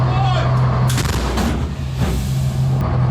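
A heavy American-made artillery gun fires with a loud, close boom, followed by a rumbling echo that rolls away, while a low engine hum continues underneath.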